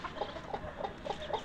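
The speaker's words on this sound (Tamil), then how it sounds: "இங்கே ஒரு கோழி அவையத்துலேருந்து வெளியே வந்துருக்குது. ஒரே சத்தம் போட்டுட்ருக்குது." A hen clucking loudly on a farm where Manila ducks and ducklings are kept, a run of short, repeated clucks in quick succession, close and alone.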